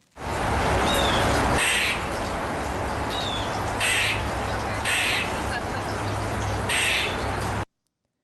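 A man imitates an angry squirrel with his voice, making harsh, bird-like cawing squawks in several loud bursts over a steady hum of room noise.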